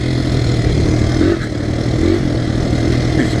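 A Honda XR100 pit bike engine runs steadily close by, a continuous mid-pitched motor drone with a brief dip partway through and no voices over it.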